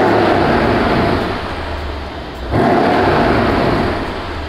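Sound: Mercedes-Benz CLS63 AMG S 4MATIC exhaust sound

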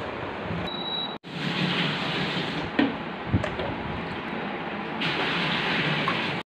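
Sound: water cooler pump motor lifting water

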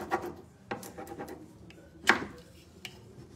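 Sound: rubbing a transfer onto a dresser drawer

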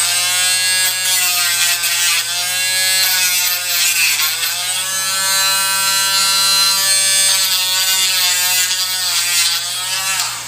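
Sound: Dremel rotary tool deburring model kit parts

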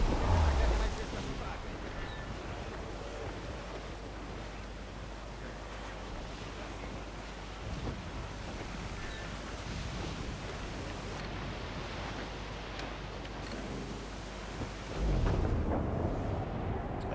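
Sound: storm waves and wind at sea in video game Assassin's Creed 4 Black Flag

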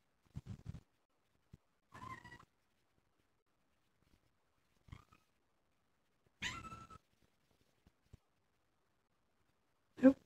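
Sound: cat meowing

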